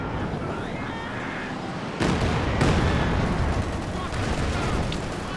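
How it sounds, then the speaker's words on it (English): A Katyusha rocket barrage in the real-time strategy game Company of Heroes 2 erupts as a sudden loud rumbling salvo of blasts, rising abruptly and sustaining over continuous battle noise. "Here comes the Katyusha barrage."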